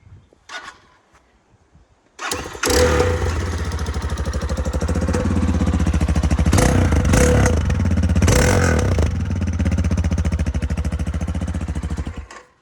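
A Spark SP300 motorcycle engine starts after a brief quiet moment, then runs loud and close with a steady throbbing idle and a few revs.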